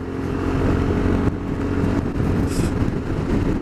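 A BMW C400GT motor scooter is ridden on the road, its engine droning loud and steady throughout with continuous road and wind rumble and no talk.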